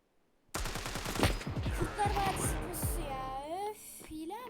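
Rapid bursts of gunfire from the mobile shooter game Standoff 2, loud and close, firing in quick repeated volleys with voices talking over the shooting.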